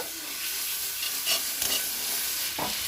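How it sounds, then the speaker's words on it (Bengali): Chopped onion and ground ginger paste fry and get stirred in a pan for prawn malai curry. A hissing sizzle runs throughout, broken by a few soft scraping strokes at close range. "বেটে রাখা আদাটা দিয়ে দিব, ভালো করে কষিয়ে নিব।"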